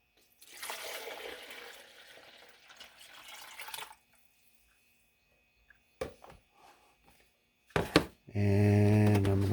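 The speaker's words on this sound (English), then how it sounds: "I'm going to pour this in here." Water pours into a coffee pot in a splashy stream lasting a few seconds, then quiet with a few clinks and short sounds before a louder tonal sound at the end.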